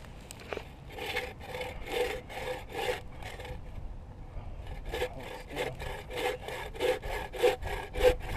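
Rhythmic back-and-forth rasping of a homemade bow saw with a replacement blade cutting through wood, strokes repeating steadily with a brief pause midway, close and fairly loud.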